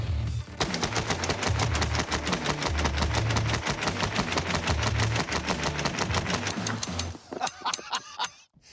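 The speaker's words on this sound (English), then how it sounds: "Let's load up a stick and crank off a couple rounds, see what we get." A hand-cranked Gatling gun fires 45-70 rounds fed from a stick magazine, loud rapid evenly spaced shots in a sustained burst for about seven seconds, then a few last scattered shots as it stops.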